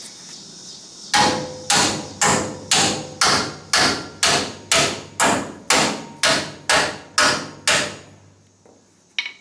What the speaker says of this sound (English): Let me get a hammer and hit that.